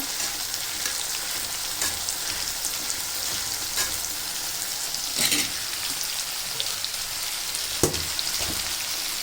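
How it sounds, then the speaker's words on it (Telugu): Masala paste for a sea fish curry fries in a pan with a constant crackling sizzle, broken by a few sharper pops and stirring scrapes. It is close and unbroken by speech. "ఈ వేగిన దీంట్లో ఇంకా మిగిలిన ఈ ముద్ద, మసాలా ముద్ద వేసుకుంటామండి"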